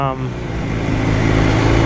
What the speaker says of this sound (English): it really does need a little slightly louder exhaust.